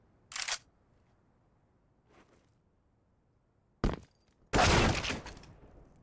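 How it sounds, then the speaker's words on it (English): A Desert Eagle pistol in a Counter-Strike match on Dust2 fires in sharp isolated cracks, one early, a faint one midway, then two louder blasts near the end, the last trailing off, with quiet between. "Vigo fell off the boost into a Deeg shot"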